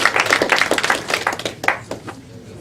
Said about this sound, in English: Y'all clap for me then.